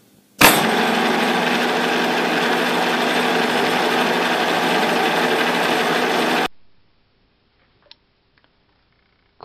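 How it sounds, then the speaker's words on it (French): A milling machine drills a 5 mm hole into a metal profile, giving a steady, loud whirring grind that runs for about six seconds alone, then cuts off abruptly to near silence with a couple of faint ticks. "Perçage avec ma fraise"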